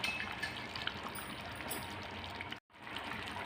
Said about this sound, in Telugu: కూర ఉడుకుతుంది కదండి